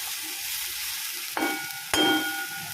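Onions sautéing lightly in a pan for an arai keerai pepper poriyal, a steady close sizzle and crackle with two sharp utensil clinks against the pan partway through.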